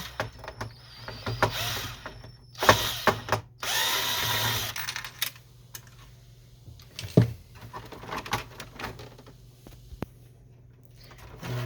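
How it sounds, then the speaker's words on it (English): A power driver backs screws out of the feeder tray of an HP Officejet Pro 6830 printer in several short whirring bursts with pauses between, close by, while pigeons coo faintly in the background. "The feeder tray comes out by removing the two screws, one on each side."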